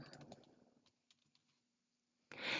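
Soft, quick clicks of someone typing on a computer keyboard, faint and close, coming in a short burst and then sparse taps before a louder noise at the end.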